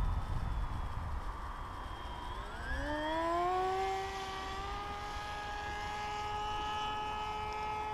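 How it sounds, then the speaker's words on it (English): Bixler RC plane electric motor with a failing bearing, a steady whine rising in pitch and holding as the motor spools up, over constant airy wind noise, no talk. "I think there's a bearing going in the motor."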